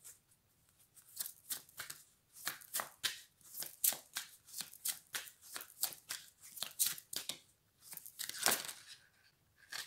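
Tarot cards being shuffled in quick, crisp riffling bursts, a steady run of close papery slaps and flutters with a louder flurry near the end, no voices.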